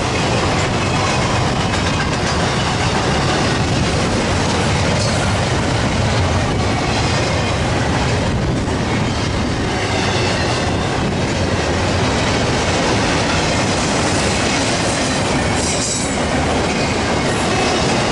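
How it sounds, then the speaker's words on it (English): A freight train, likely a Q or Z train, rolls past at Daggett with a steady roar of cars, rhythmic clickety-clack and occasional wheel squeal, loud and continuous throughout without any talk. "this looks like a Q train to me."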